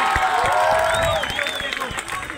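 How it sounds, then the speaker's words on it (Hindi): Audience applause breaks out at a Hindi poetry recital, a dense wash of clapping and crowd noise that starts loud and slowly thins, with a voice speaking over it. "ताली बजा दो"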